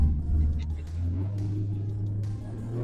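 A car driving close behind on the road, a loud, steady low engine rumble that swells slightly, heard from inside a modified Mustang EcoBoost with a new turbo and big intercooler.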